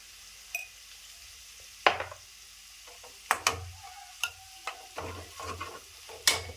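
Turmeric and other spice powders stirred into garlic and ginger frying in a pan for chicken curry, heard as soft sizzling under a series of sharp, irregular spoon scrapes and clinks against the pan, fairly close and quiet.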